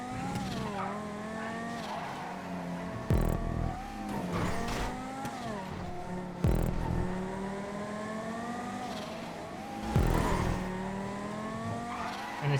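Cars racing in GTA 5, a multi-class event with sports, muscle and coupe cars: continuous engine drone with shifting revs and gear changes, punctuated by sharp tire screeches and bumps.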